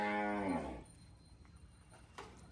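A Kankrej cow on a Banaskantha farm gives one loud, drawn-out moo close by that fades after under a second, followed by quieter farmyard background noise.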